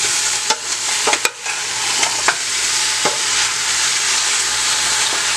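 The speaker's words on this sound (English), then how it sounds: "just give it a little stir" Oxtail stew, Bajan style, is stirred in a pot over a low sizzle, with a few sharp knocks and scrapes of the spoon early on before the bubbling settles into a steady hiss.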